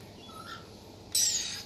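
A faint chirp, then a sudden loud, harsh screech of rainbow lorikeet calls that trails off.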